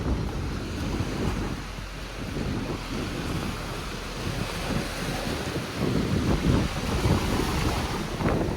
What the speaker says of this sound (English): You can see the flag blowing with the sea breeze.